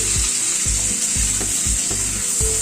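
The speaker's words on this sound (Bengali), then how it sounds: "নুন হলুদ দিয়ে সবজিগুলোকে একটু নাড়াচাড়া করে নিচ্ছি" Vegetables in a pan over a medium gas flame are stirred with salt and turmeric, the oil sizzling steadily, with about five regular scraping strokes of a spatula thumping through the constant hiss.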